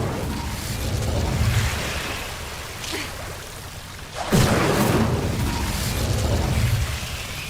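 In the video game Hogwarts Legacy, an Incendio fire spell bursts out as a loud whooshing rush of flame, with a sharp crackling flare in the middle followed by sustained roaring fire.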